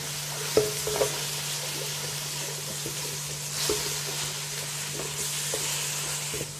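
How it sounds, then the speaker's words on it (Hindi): Whole coriander, ginger, garlic and green chillies sizzle softly in oil in a pan, with a steady frying hiss and occasional light stirring taps. "वो इसको डाल के इसको अच्छा ज़रा सा भून लेंगे थोड़ा सा।"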